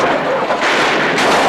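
Dense, loud gunfire from a woman shooting up a frontier town in a 1971 western comedy, a continuous roaring barrage of shots and blasts with no clear gaps.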